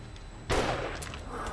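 A single sharp gunshot cracks loudly, followed by a rumbling tail and fainter distant shots, over low background hum, in the video game 7 Days To Die.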